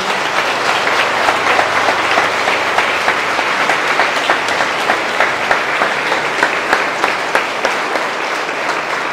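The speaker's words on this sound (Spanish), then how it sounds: "vamos a darle un fuerte aplauso a Dios" Congregation at Sunday Mass giving a long, strong round of applause, dense steady clapping filling the church with a few sharper claps standing out.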